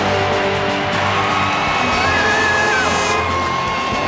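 A stadium crowd roars and cheers at a Broncos versus Dolphins football game, a dense, steady wall of yelling and whooping that holds loud from start to finish.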